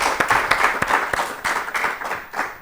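A studio audience on an Ethiopian children's TV quiz show breaks into brief, lively applause, with many hands clapping at an even, fairly close level for a couple of seconds.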